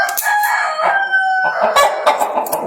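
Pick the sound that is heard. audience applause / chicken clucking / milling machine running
chicken clucking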